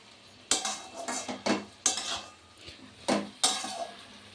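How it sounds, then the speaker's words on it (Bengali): Spoon scraping and clinking against a pan while spinach ghonto, a Bengali spinach curry with a pinch of added sugar, is stirred; sharp, irregular knocks and scrapes come in bursts over a quiet, faint sizzle. "এবার ভালো করে নেড়ে দেব।"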